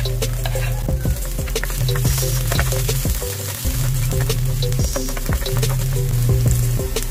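Garlic hitting a hot frying pan while cooking shrimp with broccoli, a loud continuous sizzle with scraping stirring strokes and clanks of a utensil against the pan, close up.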